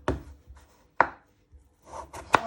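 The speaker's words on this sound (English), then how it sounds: "So after when you have peeled them, or you first chop them" A knife chops peeled potatoes in half on a board in three or four sharp, close, separate strokes with short quiet gaps between them.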